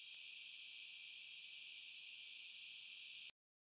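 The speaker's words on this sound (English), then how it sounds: "Yes, this here is a cicada." Steady, unbroken high insect drone of a cicada from a phone field recording for game audio, faint and even throughout before cutting off abruptly near the end.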